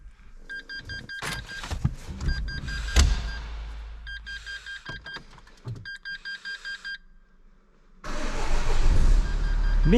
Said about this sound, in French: Ça a démarré au quart de tour.